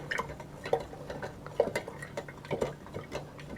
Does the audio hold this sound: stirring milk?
yes